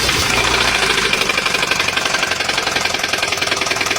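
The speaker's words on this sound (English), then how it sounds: "Owners began hearing loud knocking sounds." A Kia engine knocking from failing piston rings, a loud, continuous running engine with a rapid, regular metallic ticking pulse, close and steady throughout.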